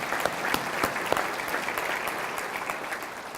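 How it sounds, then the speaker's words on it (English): Steady applause from an annual chamber meeting audience, many hands clapping in a continuous dense wash with sharp individual claps poking through, moderately distant and even throughout. "Let's give them a round of applause."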